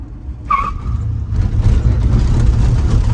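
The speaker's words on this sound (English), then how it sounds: "I was able to dump the clutch and bump it." A 1965 Ford Ranchero is bump-started by dumping the clutch: a short, sharp squeal comes first, then the engine catches and settles into a loud, steady rumble nearby, with no voices.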